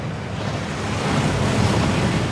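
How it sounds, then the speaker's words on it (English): Rushing water from a waterfall in the Hogwarts Legacy video game fills the scene as a continuous, dense, even roar with no voices. "That waterfall washes away all enchantments."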